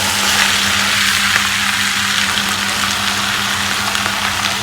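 Goat tripe sizzles and fries in hot oil in a wok, a loud, steady crackling hiss that continues without pause, with a low hum underneath.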